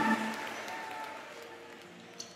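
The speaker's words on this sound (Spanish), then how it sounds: "aplauso para Joel" Faint applause from a church congregation at a Christian music tribute concert, a brief soft patter of clapping blended with lingering tones and ambient hall sound.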